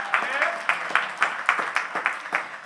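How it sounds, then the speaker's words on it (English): Audience at a Martin Luther King Jr. Day public policy forum clapping in a steady unison rhythm, crisp repeated beats about twice per second, moderately loud and close. "We have to give them all a round of applause."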